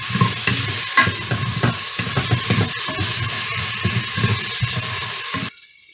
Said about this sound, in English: Okay, my onions have been sauteing for about 3 minutes.